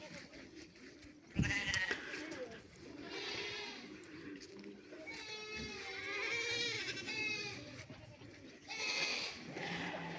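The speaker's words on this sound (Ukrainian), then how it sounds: "Барашки, козочки." Goats and sheep bleat repeatedly at an eco-park, several animals calling close by in long wavering cries, with some background commotion between calls.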